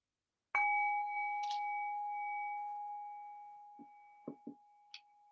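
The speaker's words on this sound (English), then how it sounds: "I'll ring the bell to make it official." A single meditation bell is struck once, ringing out clearly and then decaying slowly over several seconds, with a few faint knocks and small sounds in the quiet room as it fades.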